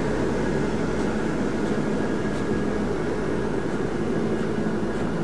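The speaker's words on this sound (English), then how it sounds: "Another train." A steady, loud broadband rumble and roar from a passing train holds constant and close, part of a backyard holiday light show display, with no voices.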